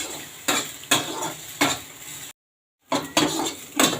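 Onions frying and being stirred in a pan, with repeated scraping strokes of a utensil against the pan about every half second over a steady sizzle, briefly cut to silence midway before the stirring resumes.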